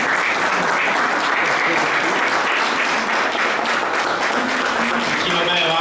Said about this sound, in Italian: Un grandissimo applauso ai Monteponi.